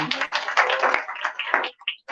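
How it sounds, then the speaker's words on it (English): Scattered clapping from a business seminar audience, a burst of uneven claps that thins out and fades near the end. "Let's clap hands for Nolo"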